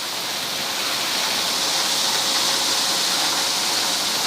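Homemade flexible auger built from pipe, driven by a 1.5 kW motor at 910 rpm, conveying barley: a dense, continuous rushing hiss at steady level, alone.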